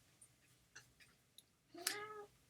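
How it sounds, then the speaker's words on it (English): A cat gives one short, faint meow after a few soft indoor clicks and taps, alone without talk. "as soon as I start, the cats come"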